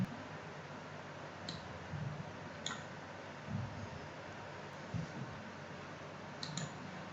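A computer mouse clicking during work in Prota Steel software, giving a few sparse, faint, sharp clicks over a low steady room hum.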